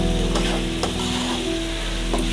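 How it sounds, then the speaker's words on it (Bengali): Potatoes sautéing in a pan for a pangas fish curry, a steady close sizzle and fry with a few sharp scraping stirs, no voices. "আলুগুলো দিয়েছিলাম সেগুলো ভালো করে কষাইয়ে"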